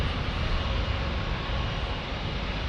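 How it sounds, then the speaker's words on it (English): A Porter Airlines Embraer E295 jet roars loud and close at an airport, a dense, steady engine rumble with no break through the short stretch. "Porter Airlines in the E295"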